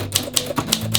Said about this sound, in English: Oh yeah, the other thing, which is right here, is this typewriter.